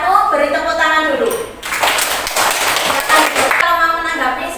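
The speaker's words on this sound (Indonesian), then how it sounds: "untuk kelompok 1 beri tepuk tangan dulu" Classroom applause from students for a group presentation, a short burst of clapping in the middle with talking before and after it.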